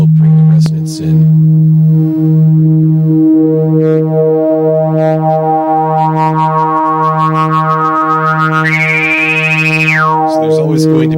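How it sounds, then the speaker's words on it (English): A loud, sustained chiptune synthesizer sine tone with bright overtones and a resonant filter peak sweeping upward, then dropping off near the end. "Now I'll bring the resonance in."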